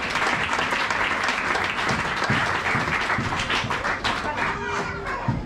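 A church congregation applauds during a sermon, producing dense, continuous clapping from many hands close by, with voices mixed into the crowd noise.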